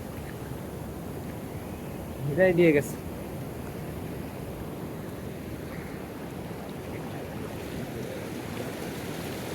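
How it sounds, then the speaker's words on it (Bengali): Ocean surf rolls in at Cox's Bazar beach as a steady, low roar of big waves, with a voice briefly speaking over the wash partway through. "কি বড় ঢেউ আসতেছে!"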